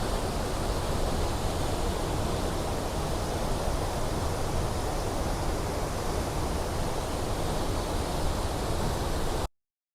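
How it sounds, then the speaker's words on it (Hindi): A waterfall in Ubud, Bali roars in a dense, unbroken wash of falling water heard from close by, loud and constant for the whole stretch before cutting off abruptly. "मैं आपको वाटरफॉल को बिल्कुल करीब से एक अच्छा सा व्यू दिखाता हूँ, इंजॉय कीजिए आप वाटरफॉल को।"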